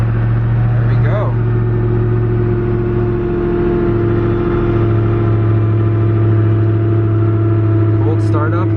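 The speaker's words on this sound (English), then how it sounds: "Cold startup on the Agera RS1." A Koenigsegg Agera RS1 sits idling after a cold start, its engine holding a loud, steady low drone with strong harmonic hum, a brief rise near the start and some faint background chatter near the end.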